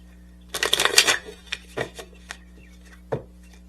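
A deck of tarot cards is handled and shuffled close by: a dense riffle burst followed by a few scattered short snaps and taps against a quiet background.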